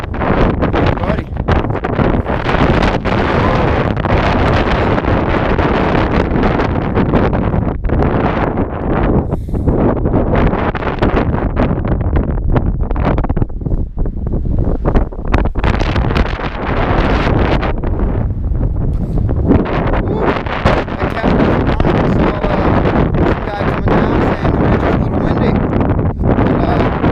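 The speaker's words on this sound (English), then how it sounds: "That wind blow coming down the mountain." Strong wind blowing down a mountainside on a high trail, a loud, constant roar buffeting the microphone for the whole stretch with only brief dips in intensity.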